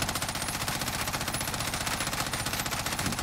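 Sustained automatic weapon fire in Warzone, a dense rapid stream of shots that runs loud and unbroken from start to finish with no talk.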